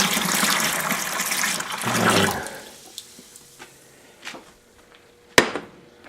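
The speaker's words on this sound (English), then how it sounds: "And I'm going to add four quarts of this apple cider." Apple cider poured from a jug into a bucket of turkey brine, a loud gushing, splashing stream for about two seconds, then quieter drips, trickles and a sharp knock near the end.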